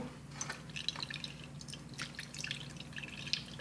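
Beer sauce from a Bavarian pork roast dripping through a sieve, a faint scatter of small irregular liquid drips and trickles over a low background hum.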